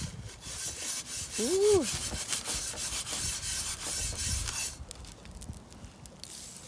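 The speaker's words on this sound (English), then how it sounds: "And you just start scrubbing." A hot cast iron skillet being scrubbed gives a close, continuous rasping rub in steady strokes that fades near the end, with a short voiced exclamation early on.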